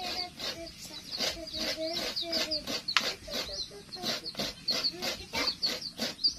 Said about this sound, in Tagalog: inaagawan ka na ng manok